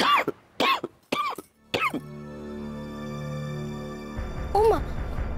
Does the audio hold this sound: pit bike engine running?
no